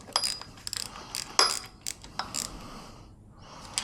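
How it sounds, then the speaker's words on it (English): A 1/4 inch ratchet clicks while tightening bolts on a Subaru WRX STI engine build, short close bursts of pawl ticking separated by pauses and a few metallic clinks. "all you need for this is a 1/4 inch ratchet"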